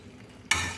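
Mixed vegetables for Bengali shukto are sautéed together in a pan: near-silence, then a sudden loud burst of sizzling that continues steadily to the end.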